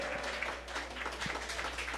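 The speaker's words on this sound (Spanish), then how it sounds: "Un aplauso a nuestro cuarto participante." Applause from a studio audience for the fourth contestant of a rhythm singing competition, a steady wash of clapping at moderate level with no talk over it.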